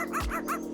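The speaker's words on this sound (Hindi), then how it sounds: "कुत्ता उस पर भौंक रहा है।" A cartoon dog barks at a cat up a tree, three quick, close, yappy barks in rapid succession.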